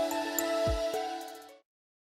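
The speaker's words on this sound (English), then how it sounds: "That's the phone. Maybe Dad's calling." A telephone rings once in the video game Another Code R, a bright electronic ring tone with harmonic chimes that sustains and then cuts off, close and clear with no talking.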